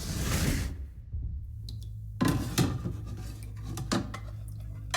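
Dishes clatter in a video game kitchen: a few sharp clinks and rattles of plates and cutlery, close and fairly loud, separated by brief quiet gaps, with no talking.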